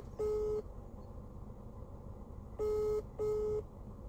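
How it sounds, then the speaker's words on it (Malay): A phone call is being placed: a steady electronic ringback tone sounds in three pulses, one short and then a closely spaced pair, faint over a low background hum, with no speech. "tak geram lama terlampau ni saya telefon Abang Wei"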